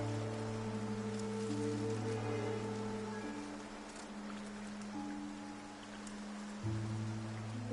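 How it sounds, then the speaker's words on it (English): Rain falls steadily in the Infinity Nikki video game, a soft continuous patter under faint sustained tones that keep going with no voices. "Nikki, it looks like it's going to rain."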